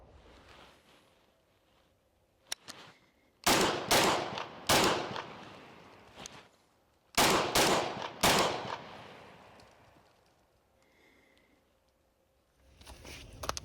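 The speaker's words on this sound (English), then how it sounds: "There's 4 more shots on the heart from that distance of 7 yards." A handgun fitted with a Kahntrol muzzle brake fires at an indoor range in two quick strings of sharp, loud cracks, about four shots then four more, separated by a pause, with faint room noise in between.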